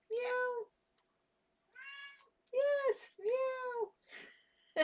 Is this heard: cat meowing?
yes